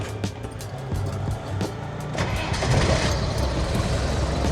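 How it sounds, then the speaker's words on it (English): A 1990 Land Rover Defender engine cranks and catches, settling into a steady idle hum, close by with no talking. "So I'll start the car for you guys."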